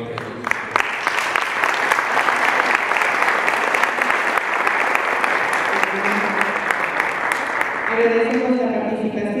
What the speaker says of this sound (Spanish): Muchas gracias a todos los panelistas por su valiosa participación. Un aplauso nuevamente.